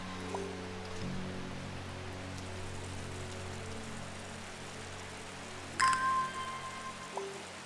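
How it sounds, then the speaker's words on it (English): Rain in the Strange Horticulture video game hisses steadily throughout at moderate level beneath soft low tones and faint chimes, with a brief bright ringing note toward the end. "The rain sound"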